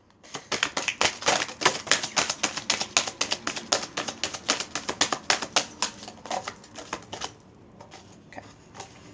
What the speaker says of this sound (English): I'm going to shuffle once.